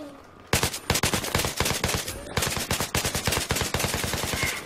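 Automatic gunfire in Battlefield 3, loud rapid bursts of close shots in fast rhythm, with a brief pause before a longer sustained burst and no talking.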